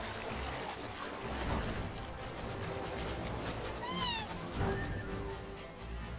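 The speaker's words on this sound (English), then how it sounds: "That was a chocobo, but they sampled cats for it." In Final Fantasy VII Rebirth, a chocobo call built from sampled cat meows sounds twice as short rising-falling cries over a busy game background, fairly quiet.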